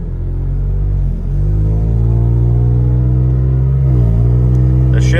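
A third-generation Toyota Tacoma pickup swapped with a Cadillac CTS V-Sport LF3 twin-turbo V6 accelerates steadily, its engine drone rising in pitch with brief dips where the transmission shifts, heard loud and close throughout.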